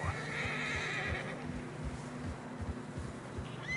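A horse whinnies loudly in the snowy setting of the video game Red Dead Redemption II, a shrill neigh at the start followed by steady hoof clops and faint wind.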